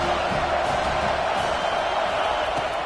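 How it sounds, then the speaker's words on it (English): Football stadium crowd roaring during a game, a dense, sustained wash of cheering that stays loud and even throughout with no distinct voices standing out. "this crowd is turning it up a notch"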